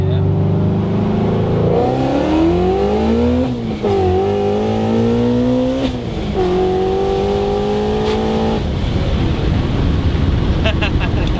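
A supercharged 800 hp 2017 Shelby GT350 pulls hard in first gear, its engine note climbing steeply through several rising sweeps with brief dips at the shifts, loud and close from inside the car, finishing in a rough roar.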